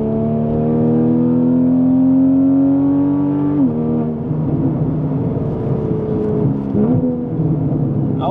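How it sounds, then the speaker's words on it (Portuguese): Porsche Cayman S 3.4 flat-six revving hard through a straight-pipe exhaust, a loud, raspy, metallic wail that climbs steadily, drops sharply between shifts, then rises again, close and with no talking. "nenhum entrega esse ronco rouco, agudo, né? Metálico também."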